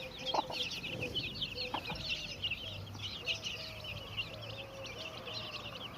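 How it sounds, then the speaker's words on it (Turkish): A hen clucks softly and repeatedly while leading her chicks through grass, their thin high peeps scattered around her low calls outdoors. "Sarı kızımız artık böyle civcivlerini gezdirmek için uğraşıyor."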